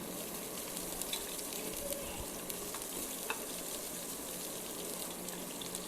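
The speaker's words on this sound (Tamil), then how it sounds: "சேர்த்துட்டு நல்லா பொறுமையாக கலந்து விட்டுடலாம்." Onions fry in a pan as they are stirred for a vegetable kurma, a steady, faint hiss of sizzling broken by a few soft scrapes, with no talking.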